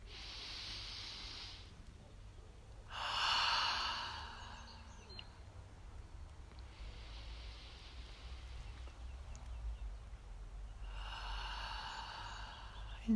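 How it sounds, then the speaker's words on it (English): Slow, deep meditation breaths, drawn in through the nose and released through the mouth, come as soft airy rushes in a calm rhythm, several long inhales and exhales close and quiet over a faint background hum. "In through the nose and out through the mouth."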